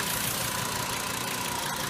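A 2010 Volkswagen Jetta 2.5 SE SportWagen's five-cylinder engine idles close by, a steady, even mechanical hum with a faint ticking texture and no other sounds over it.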